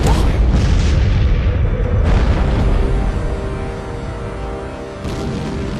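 Heavy bomb blasts from a wartime air raid on Chongqing boom in a dense, continuous roar, with fresh loud impacts landing every couple of seconds over rumbling low-end debris.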